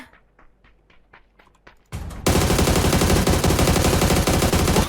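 A burst of gunfire in the video game PUBG starts with a few faint, spaced shots, then breaks into loud, sustained automatic fire at close range for the last three seconds.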